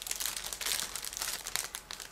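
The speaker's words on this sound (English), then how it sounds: "because these are sealed plastic bags, I am going to use scissors off the camera" Sealed plastic bag from a 1/72 scale model kit being cut open with scissors, giving a steady run of close crinkling and crackling plastic with small snips, no voices.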